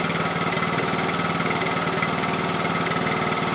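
A Craftsman YT3000 lawn tractor engine, running on old gas after an oil change and still smoking, holds a steady, loud, close, buzzing drone with a fast regular pulse and no speech.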